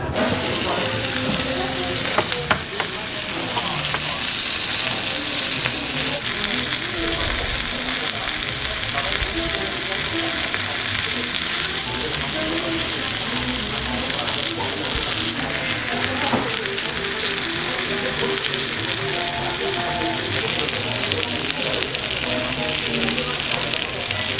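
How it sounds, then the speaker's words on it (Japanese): Assorted vegetables stir-fry on a hot restaurant griddle, sizzling loudly and continuously with scraping and stirring throughout. "いろんなお野菜の炒め物です。"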